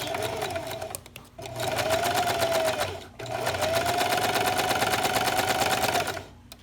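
A sewing machine runs a straight stitch on baby sleeper fabric, a fast, even mechanical whir in three runs with brief pauses between them, close and clear.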